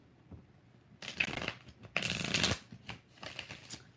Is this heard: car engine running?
no